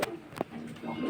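Breeder pigeons in a loft give a short, soft coo, faint and close, over a quiet room.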